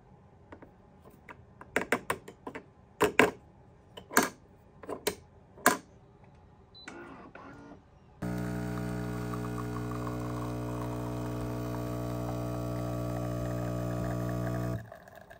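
A Philips espresso machine starts brewing, a steady loud mechanical pump hum lasting several seconds, preceded by a series of sharp button clicks and taps.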